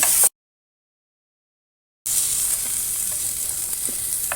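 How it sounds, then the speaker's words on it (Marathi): Tomatoes with ginger and garlic sautéing in a pan while a spicy egg curry masala is being prepared, giving a steady close sizzle with a few faint stirring clicks after a brief silent gap. "टमॅटो पण थोडं परतून घ्यायचं."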